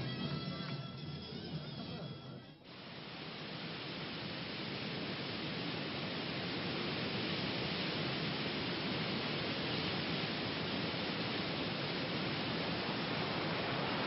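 Ouzoud waterfall in the Atlas mountains, its water dropping from a height of about 100 metres, gives a steady broadband roar that swells after a brief dip near the start and stays loud and constant.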